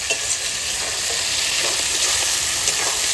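Goat fat crackles and sizzles in hot oil in a home kitchen pan, a steady loud hiss with scattered pops and occasional stirring scrapes, continuous throughout with no voices.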